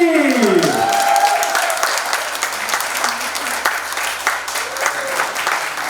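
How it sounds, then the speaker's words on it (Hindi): Loud, sustained applause from a large crowd, dense clapping that continues steadily throughout, with a brief tonal sweep at the start. "मैं चाहता हूँ तहे दिल से जोरदार तालियों के साथ अभिनंदन किया जाए।"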